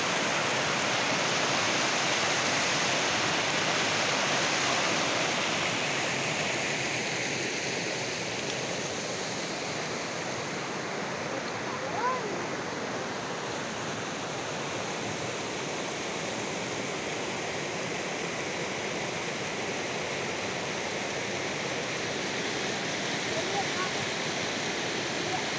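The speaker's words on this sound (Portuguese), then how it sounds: "Cachoeira no Rio Lavrinha." Waterfall on the Lavrinhas river in Itaberá, São Paulo, Brazil, giving a steady, loud, broadband rush of falling water that holds unbroken throughout.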